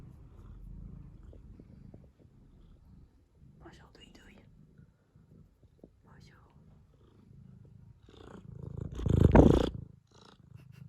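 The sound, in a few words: cat purring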